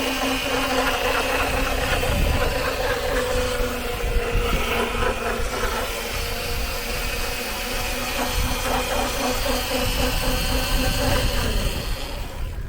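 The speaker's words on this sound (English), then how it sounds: "the motor is loud, like really loud. It sounds like a chainsaw" The chain-driven electric motor of a Razor EcoSmart Cargo two-person scooter whines loudly and continuously, a buzzy chainsaw-like drone heard close up for the full stretch.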